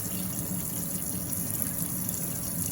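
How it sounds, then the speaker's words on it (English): Running tap water pours steadily over large collard green leaves being rinsed, a continuous close splashing gush with no talk. "and you just want to rinse them off"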